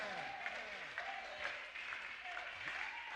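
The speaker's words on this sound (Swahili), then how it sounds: "Naona baadhi yao wanaopiga makofi" A church congregation claps in a steady wash of applause throughout, with a voice rising and falling over it.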